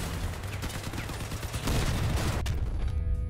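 Weapon fire in the vehicle combat game Crossout, a dense, continuous barrage of loud gunshots and blasts with a sharp crack near the end, heard alone without talk.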